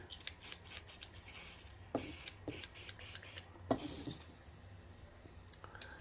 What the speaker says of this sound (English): Give it a spray there.